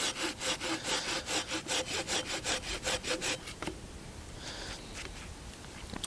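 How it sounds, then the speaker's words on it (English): A hand saw cuts through wood in a steady back-and-forth rhythm of about a dozen close, loud strokes, then slows into fainter, scraping rubs as the cut finishes. "Once we've got our saw in the kerf, we may well need to switch back to here."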